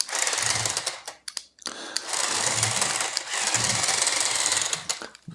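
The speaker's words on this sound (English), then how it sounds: "This sound is not gears or something. That's the air exhaust." A loud, harsh mechanical hissing rattle from the air exhaust of a Mould King 13082 F150 Hoonitruck toy truck runs in long bursts, broken by brief pauses and clicks.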